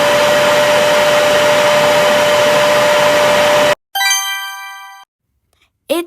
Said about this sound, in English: It's a vacuum cleaner.